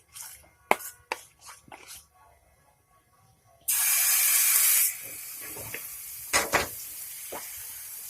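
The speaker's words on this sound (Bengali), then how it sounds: "আমি ওই মিশ্রণটা তাওয়ার মধ্যে আমি দিয়ে দেব। ওতে আমি তেল দিয়েই রেখেছিলাম, গরম হয়ে গেছে আমার।" Egg and flour batter hitting a hot oiled griddle gives a sudden loud close sizzle that settles into steady hissing frying, after a few earlier clinks and stirring sounds.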